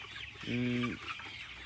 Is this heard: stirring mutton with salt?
no